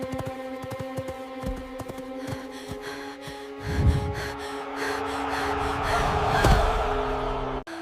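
Heavy, ragged gasping breaths from a racer just past the finish line, repeated in uneven bursts over a steady background drone, loud and close.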